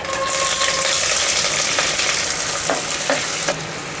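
Onion with cardamom, cinnamon and star anise frying in ghee and oil for peas biryani, giving a loud, dense, continuous sizzle with a few faint stirring knocks, no talking.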